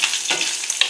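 Green chilli, ginger pieces and curry leaves sizzle in hot oil as a tempering for an okra curry, a close, steady crackling fry heard alone with no talk.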